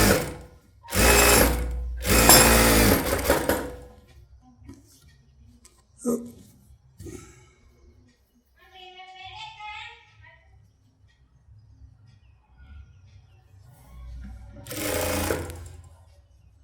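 Sewing machine running in bursts as a rough half-inch stitch is run along a blouse sleeve lining, with two loud stretches early and another near the end, quieter handling and faint voice between.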